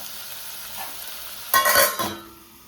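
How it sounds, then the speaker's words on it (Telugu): Cucumber, tomato and dried fish curry fries in hot oil, a soft sizzle rising into a brief burst of stirring and crackle near the end of the short stretch. "ఇలా కలిపేసి కొంచెం సేపు ఆయిల్లో వేగిన తర్వాత మూతబడదాం"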